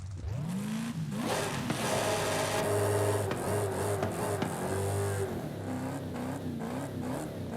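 A Dodge Challenger Hellcat Redeye with an upgraded exhaust in Forza Horizon 5 revs and accelerates, its engine tone rising and falling through several pulls under a steady whirring drone, with no talk.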